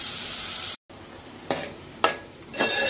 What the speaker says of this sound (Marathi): प्लस कांदा हा आपण टाकून घेणार आहोत. त्याला व्यवस्थित आपण परतून घेऊ.